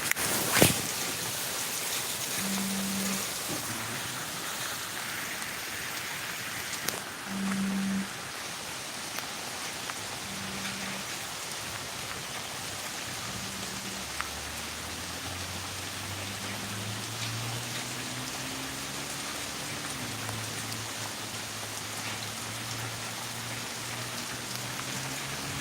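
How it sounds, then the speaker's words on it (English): Heavy rain falls in New York during flood warnings, a dense, continuous hiss of drops on surfaces with a low rumble underneath and an occasional sharp tick, steady for the whole stretch with no talk. "New York has flood warning because it's raining so much"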